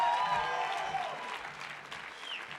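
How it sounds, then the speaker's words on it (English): Audience applause at the Claremont McKenna College 2014 commencement, a short burst of clapping that starts full and gradually thins, with a voice faintly over it at the start. "we welcome your applause for the BA-MA class of 2014"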